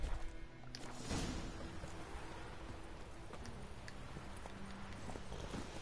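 Roach the horse's hooves clop in The Witcher 3, a run of brisk, irregular hoofbeats over a low rumbling game background, fairly close and steady throughout.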